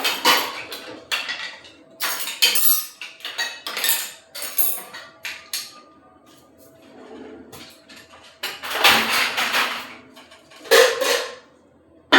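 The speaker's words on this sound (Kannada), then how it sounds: "ಇವಾಗ ಪಾತ್ರೆ ಎಲ್ಲ ಜೋಡಿಸ್ಬೇಕು." Freshly washed steel kitchen utensils being stacked and arranged on a shelf, giving repeated close clinks and clatters in irregular bursts with short quiet gaps between them, and no speech.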